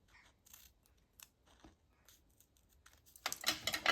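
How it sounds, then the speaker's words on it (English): Scissors snip around sticky craft material for journal page corner protectors, a string of faint, quick cuts followed by a louder burst of snipping and crinkling near the end. "Cutting around."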